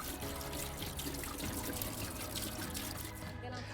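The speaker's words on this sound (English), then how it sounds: "it will require 1 or 2 gallons of antifreeze, which we'll pour directly into the skimmer" Antifreeze pours steadily into the skimmer of an above-ground pool, a continuous close splashing gurgle lasting the whole stretch with no pauses.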